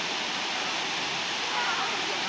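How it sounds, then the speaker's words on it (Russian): Lam Pi waterfall in Thailand pours as a steady, broad rush of falling water, close and fairly quiet, with no talk or other sounds over it. "И здесь находится водопад Лампи."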